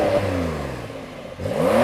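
A Porsche 911 engine revs hard against its soft limiter in launch mode, a loud close rising roar that dips briefly before surging again over about two seconds.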